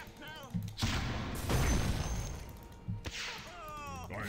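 The sniper hero fires in a Dota 2 match, with sharp cracking shots and heavy booming impacts rising between stretches of voices and game chatter.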